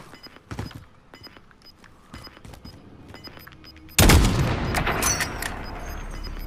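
Gunfire in the Call of Duty video game near a shopping center: scattered faint shots and footsteps give way to a sudden loud, dense burst of firing and booms that continues to the end.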